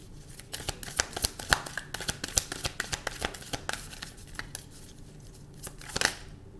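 Tarot cards are shuffled by hand in a rapid run of crisp riffling snaps and slaps, close and fairly quiet, thinning toward the end with one last louder flurry.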